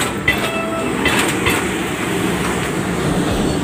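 A passenger train passes close by at a railway crossing in Bicutan, Taguig, Metro Manila, with a steady loud rumble and rhythmic clickety-clack of wheels on the rails.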